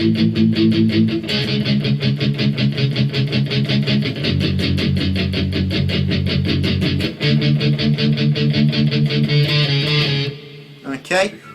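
A distorted electric guitar plays a verse riff with quick, rhythmic chugging chords that shift pitch in sections, loud and up close, ending with a brief ringing stop.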